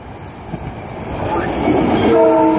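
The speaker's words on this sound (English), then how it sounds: "A train is approaching the crossing. Please do not cross the track." A SEPTA commuter train passes the Lower State Road railroad crossing on its way toward Doylestown, its loud rumble building steadily before the horn sounds near the end.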